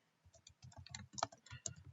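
Quick, uneven keystrokes tap on a computer keyboard, close and fairly quiet, in a brief burst of typing.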